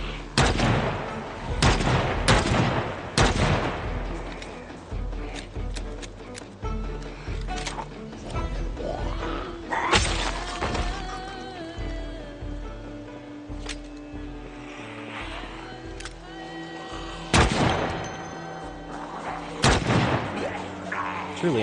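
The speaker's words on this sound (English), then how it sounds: "it's a noisy gun." Heavy gunshots boom from a noisy gun in the zombie survival game Project Zomboid, a string of loud blasts with a long echoing tail and some talk mixed in.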